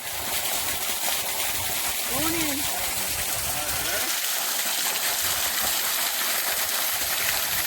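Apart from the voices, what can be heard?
artesian spring water gushing from tap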